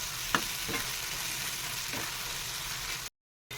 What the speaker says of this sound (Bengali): এই বেগুন ভর্তা কিছুক্ষণ কষাতে হবে।